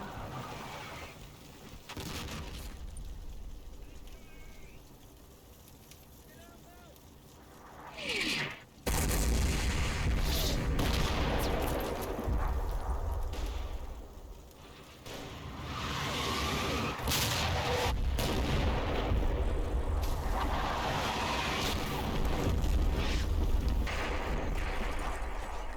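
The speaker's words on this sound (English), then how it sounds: "More SS artillery." Artillery fire from SS guns in the Combat Mission war game, Operation Epsom battle, heard as loud, dense booms and rumbling blasts rolling on continuously, with a sharp burst near the middle.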